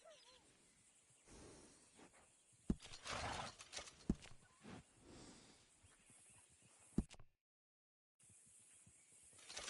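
Quiet horse sounds from Red Dead Redemption 2: snorts, a soft whinny and occasional hoof clops, with a few sharp knocks and a brief dropout near the end.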